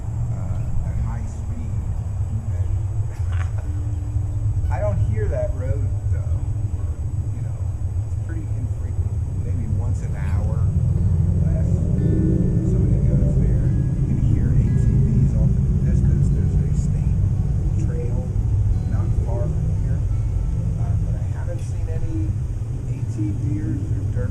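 Trucks and cars on a nearby road by a rocky hideaway building site make a steady low rumble that carries through the whole stretch, with faint voice-like sounds at times.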